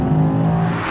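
Close, steady engine drone of a Mercedes race car at full throttle in third gear on a track, one sustained strained tone with tire-road rumble and no voices.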